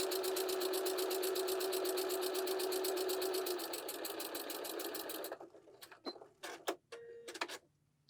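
Stitching a quilt block along a marked line with a scant quarter-inch seam, a sewing machine hums with a fast, even ticking rhythm for several seconds, then stops, leaving scattered clicks and handling noises.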